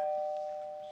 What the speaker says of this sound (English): I didn't even know we had a doorbell.